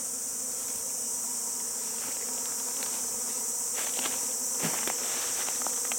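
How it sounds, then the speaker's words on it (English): Bees buzz steadily around a log hive outdoors, a dense continuous insect hum with individual bees passing close by now and then, no voices present. "Lots of bees flying around."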